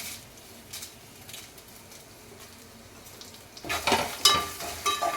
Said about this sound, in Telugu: ఎండుమిర్చి అయితే ఫ్రై అయిపోయినాయండి